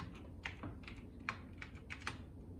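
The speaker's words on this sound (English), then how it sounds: "you need to type it in small case letters" Quiet keystrokes on a computer keyboard while entering Python code on a Raspberry Pi, a short run of light, irregular taps alone without speech.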